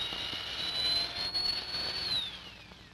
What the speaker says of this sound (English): The belt sander makes projects like this very easy, and it can also be used as a stationary sander and shaper.